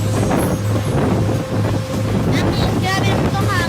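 Strong wind buffets the microphone during a boat trip near Kilutungan Island in Cebu, a loud steady roar with gusts and faint boat and water noise underneath.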